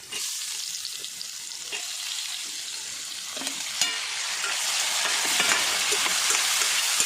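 Bumpy bitter gourd (boda kakarakaya) with onions sizzles steadily in a pan, broadband frying hiss growing slightly louder, with occasional sharp scrapes and clicks of stirring throughout; no talking.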